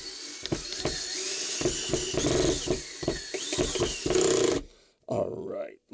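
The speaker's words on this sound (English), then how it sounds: "now we can get our gun in there. Our drill." A power drill driving a screw whirs in repeated short bursts, close by, pulsing on and off with rattling, then stops abruptly before some brief clatter.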